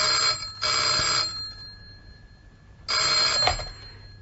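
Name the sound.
telephone ringing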